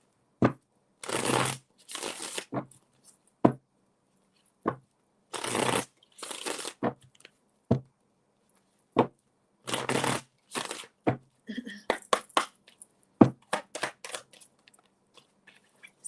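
Tarot cards shuffled in repeated bursts of crisp riffling and flapping, separated by short pauses and scattered taps and clicks, close and clear with no talking.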